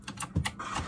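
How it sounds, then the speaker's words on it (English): A really clicky computer keyboard being typed on: a quick handful of crisp, close keystrokes with no voices over them. "really loud keyboards, like really clicky keyboards"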